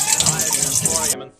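Water rushing in an underground sewer, a loud steady gushing splash close by that cuts off abruptly near the end, with no talk.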